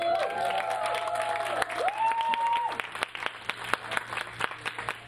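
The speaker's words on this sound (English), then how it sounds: "give Jesus a loud clap" A church congregation clapping loudly together at a worship service, with dense applause and a sustained shouted and sung voice over it early on, then scattered claps continuing.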